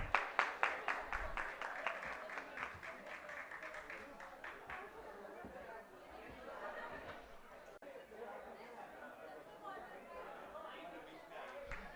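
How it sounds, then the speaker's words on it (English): An evening ghazal concert audience at a conference in New Delhi claps together, loud and crisp at first, then fading into murmured crowd chatter and scattered claps. "A huge round of applause for everybody"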